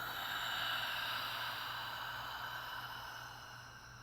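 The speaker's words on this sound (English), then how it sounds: "Exhale." A person lets out one long, steady exhaled breath during a breathing exercise, close and soft, trailing off slowly, with no speech over it.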